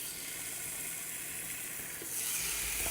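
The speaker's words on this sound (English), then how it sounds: "of course, you hear the sizzle." Meat sizzles in hot oil in a pan, a steady loud frying hiss filling the clip and swelling slightly louder near the end, with no talking.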